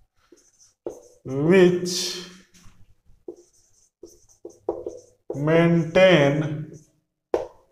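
Chalk or marker scratching on a board during an electricity lecture, brief scrapes and taps between stretches of someone speaking, close and clear.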